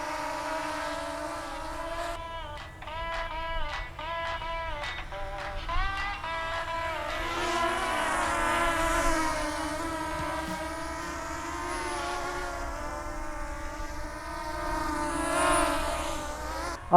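A Holy Stone HS175D mini drone flies low nearby, its motors giving a steady buzzing whine with pitch bends and surges as it maneuvers, loud and continuous throughout without talk.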